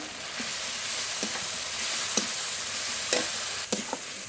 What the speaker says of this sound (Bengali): মশলা খুব ভালোভাবে কষিয়ে নিয়েছি